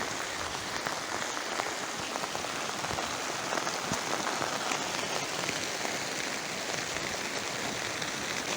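Steady rain falls on a vegetable garden with garlic and onions, a dense, even patter of drops hitting leaves and soil that holds constant throughout.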